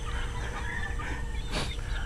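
Gamecocks at a Filipino poultry farm cluck and croak close by, with a sharper, brighter call bursting out briefly toward the end over a constant low rumble.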